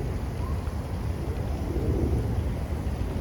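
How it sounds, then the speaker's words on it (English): A low, continuous rumble of distant thunder rolls beneath steady outdoor noise, broad and muffled with no clear peaks. "I heard a little bit of thunder"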